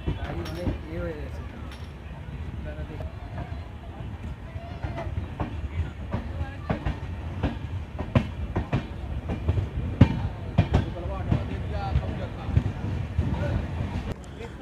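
Sikkim Mahananda Express pulling into Siliguri Junction, with a steady low rumble of railcars and recurring clicks and clacks of wheels over track joints, fairly loud throughout, with people talking in the background.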